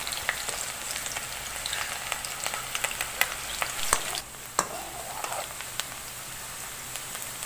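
Onions fry in hot mustard oil with a steady, fairly quiet sizzle and crackle, punctuated by sharp pops and occasional stirring taps close by.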